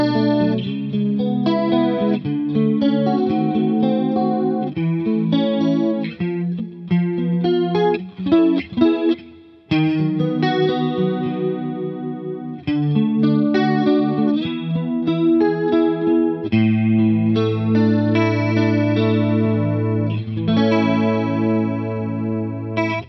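Electric guitar through a DemonFx Mini Chorus pedal into a Fender amp with the pickup selector in the second, half-tone position, playing clean chorused chords and melodic lines; a close, continuous performance with a brief dip midway and no talking.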